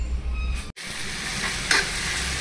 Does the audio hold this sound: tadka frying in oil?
yes